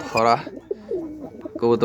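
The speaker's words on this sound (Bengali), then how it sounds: "চলেন আমরা আগে দেখিনি আমাদের কবুতর" Domestic pigeons coo in short bursts, close by, with a brief pause between calls.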